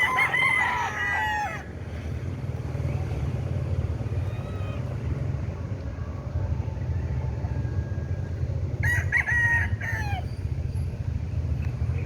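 A rooster crows at the start and again later, moderately loud over a steady low engine-like rumble.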